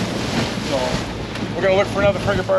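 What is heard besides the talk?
wind and ocean waves at sea, Key Largo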